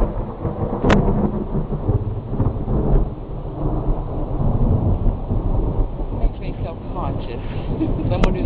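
Thunder rumbles low and long through a storm with steady rain, a deep rolling boom lingering under a person speaking nearby.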